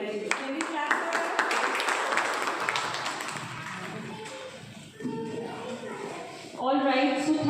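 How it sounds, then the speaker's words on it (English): Children and parents clap together at a school seminar, a dense burst of applause that fades over several seconds, with voices murmuring and talking through and after it. "Can we clap for her?"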